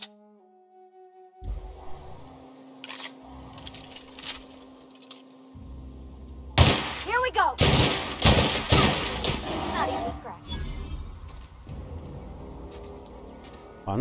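Gunfire from the Opas Zuverlässigkeit weapon in The Outer Worlds: a cluster of loud, sharp shots and bursts in the middle, following quieter game ambience and footsteps, with someone speaking in between.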